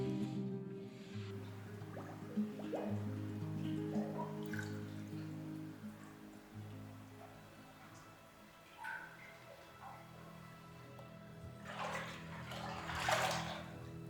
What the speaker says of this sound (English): there's certainly flowing water